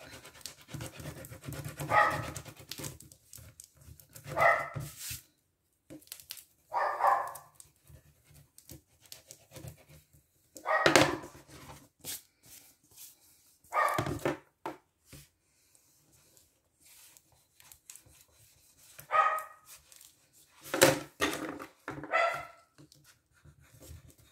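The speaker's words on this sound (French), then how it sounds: "Elle a entendu un autre chien, donc forcément." A dog gives several short barks in separate bursts, spread across the span with quiet gaps and light rustling between them.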